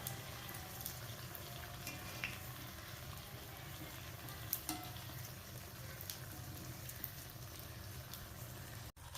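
Steady crackling sizzle of wheat bonda deep frying in hot oil, continuous and close, with no talking.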